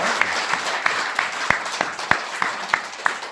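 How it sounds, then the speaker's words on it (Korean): A church congregation claps together at a Thanksgiving service, the loud applause broken by sharp, fairly regular claps standing out roughly every third of a second over a dense wash of hands. "우리 함께 하나님께 영광의 박수 다시 한번 돌려봅니다."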